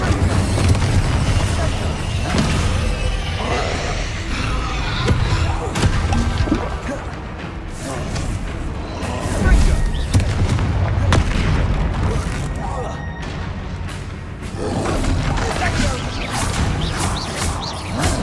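Bombarda and Confringo spells burst in Hogwarts Legacy combat, heavy booms and thuds rolling one after another through a dense battle din, with a voice shouting spell names over them.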